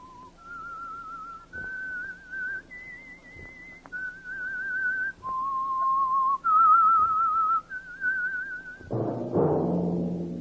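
A lone whistler performs the eerie theme melody of the 1940s Whistler radio drama, clear sustained notes stepping up and down in a slow tune, close and alone, before a brief orchestral swell at the end.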